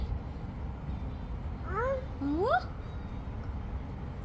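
A cat meows twice in quick succession, each a clear rising and falling cry, heard close over a steady background hiss.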